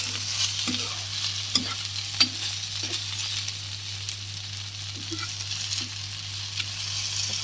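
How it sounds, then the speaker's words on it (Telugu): Lady finger okra stir-frying in a pan, with a steady soft sizzle and intermittent scraping taps of a spatula at an even pace, a low constant hum beneath, close and without talk. "బెండకాయ కూడా చక్కగా వేగింది."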